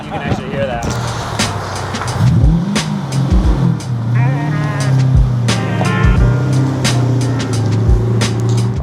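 A V8-swapped Lexus IS300 wagon with a manual gearbox and aftermarket intake revs in rising and falling sweeps, its engine rumble loud and close, with people talking over it throughout.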